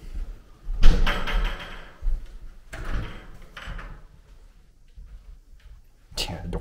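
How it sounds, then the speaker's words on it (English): Doors bang shut inside an abandoned apartment complex, several sharp slams at irregular intervals, loud and close, with a voice speaking between them. "Yeah, the door slams."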